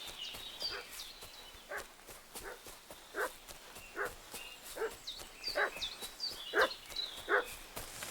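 Dog barking in the medieval open-world game Kingdom Come: Deliverance 2, a run of sharp barks repeating roughly every half second to second at moderate distance, growing a little louder toward the end over soft ambient sound and faint footsteps.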